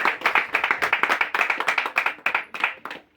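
A church congregation claps in time, crisp rhythmic hand claps repeating steadily at close range before tapering off at the end.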